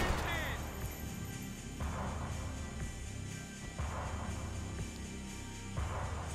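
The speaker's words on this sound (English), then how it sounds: "He was missing me at this range with a shotgun." Shotgun blasts in the game Max Payne 3, a few heavy booms spaced about two seconds apart amid a loud, busy background of game ambience.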